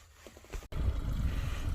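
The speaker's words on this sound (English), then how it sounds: "the engine's warming up" Small boat engine warming up: a soft sputter and a brief pause, then a low steady chugging rumble settling in, close and continuous.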